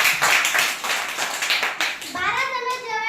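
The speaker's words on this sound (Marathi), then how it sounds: "छान, टाळ्या वाजवा." A group of children claps together for about two seconds, a loud burst of quick, scattered hand claps in a room, before a voice starts speaking.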